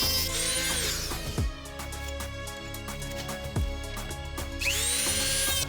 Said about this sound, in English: I just used my little Dremel drill with a tiny little grinding disc on it just to get a nice smooth edge